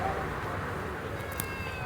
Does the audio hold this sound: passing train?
no